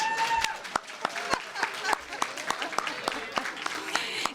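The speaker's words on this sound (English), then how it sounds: "Please give her a round of applause." A crowd claps for the Gold and Silver Circle chair at a 2022 gala, a thinner spread of hands with distinct individual claps and some voices mixed in, fairly close and moderate in level.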